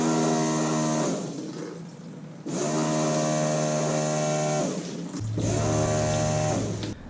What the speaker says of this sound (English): you're going to see the pump run, and you're going to see the fuel coming out of the pump